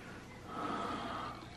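A sharp, breathy intake of air swells and holds for about a second before a back crack, in a prank setting, close and fairly quiet with no talking.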